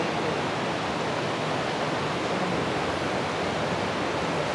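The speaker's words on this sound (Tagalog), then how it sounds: "Narinig mo na guys yung lagas-gas ng tubig." Rushing water of the Tinipak River near a cave, a dense, steady roar of broadband noise that fills the whole stretch at close range, loud and unbroken, with no voices.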